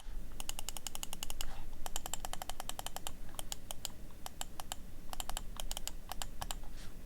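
Rapid, crisp clicks from the side buttons of a Razer DeathAdder V3 Pro gaming mouse, pressed in quick bursts of repeated taps with short pauses between runs, close and clear over faint background hiss.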